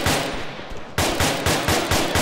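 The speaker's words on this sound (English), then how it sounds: "Still taking fire, sounds like bearing 160." Sustained gunfire in a military video game crackles close and loud, a dense burst followed by a string of rhythmic, evenly spaced heavy shots, with no talking.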